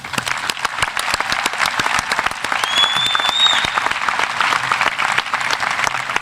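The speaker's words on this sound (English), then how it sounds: "you deserve a round of applause for that" A round of applause from the audience at a high school commencement ceremony, many hands clapping together in a steady, fairly loud wash, with a brief whistle cutting through midway.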